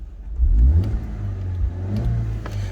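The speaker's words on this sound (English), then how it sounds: "let's give it a very quick rev" A 2008 Volkswagen Beetle convertible's 1.6-litre engine idling close by, then given a quick rev that surges and settles back to idle, followed by a second smaller blip.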